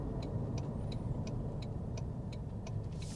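Steady low road rumble from aggressive-tread Falcon Wild Peak tires on a moving SUV, heard from inside the cabin, with a regular soft clicking repeating throughout and a sharp tick at the end.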